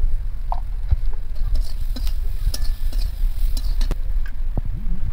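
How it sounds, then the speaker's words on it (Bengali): Fried potatoes sizzle in oil in a pan while being stirred with spices such as turmeric. Moderate frying hiss sits under scattered scraping and clinking stir strokes, with no speech. "আলুগুলো ভাজা হয়ে গেছে। এবার এর মধ্যে একে একে সমস্ত মশলা দিয়ে দেবো।"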